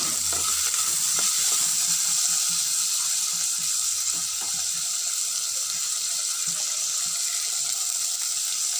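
Ingredients sizzle and fry in a pan while being sautéed for a Parai fish curry, a steady bright hiss with occasional stirring clicks and scrapes, moderately loud throughout.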